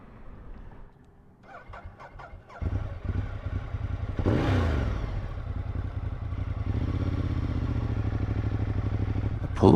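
A motorcycle clatters and fires up, then revs and pulls away smoothly, its engine note rising into a steady strong drone close by, with clutch trouble noted beforehand.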